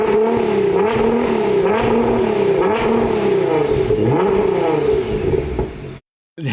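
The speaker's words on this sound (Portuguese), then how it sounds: "Mas eu queria ouvir o ronco do escapamento agora." A Nissan GT-R's exhaust rumbles loud and close as the engine revs up and down in repeated swells, a deep pulsing roar that cuts off abruptly near the end.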